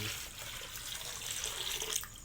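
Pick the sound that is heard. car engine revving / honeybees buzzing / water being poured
water being poured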